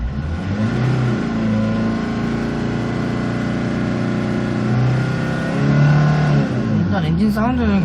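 A 2004 Hyundai Porter short-cab TCI diesel with manual gearbox idles steadily with a low, rough rumble, then its revs climb in a loud, rising burst before dropping back, heard close from inside the cab.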